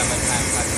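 A helicopter flies over Manhattan with steady, dense rotor and engine noise close up that fills the whole short moment without a break.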